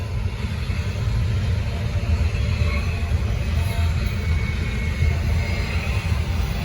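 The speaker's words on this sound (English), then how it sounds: "Might have been the fastest intermodal train all day." A Norfolk Southern intermodal freight train passes at speed through Gaffney, South Carolina, making a steady, loud, close rumble with a constant roar that holds without a break from start to finish.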